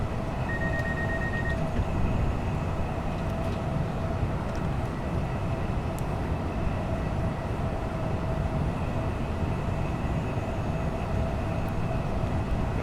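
Class 387 electric multiple unit running in Train Sim World, Gatwick Express service on a London commuter route: a steady, loud rolling rumble with constant low drone and faint tonal whine, continuous throughout with no voices.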